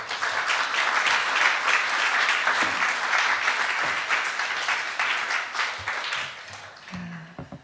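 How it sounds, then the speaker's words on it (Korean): Sunday worship congregation applauding to welcome the pastor, sustained dense clapping that tapers off into a few scattered claps and light movement at the end. "나오실 때 박수로 환영해 주시기 바랍니다"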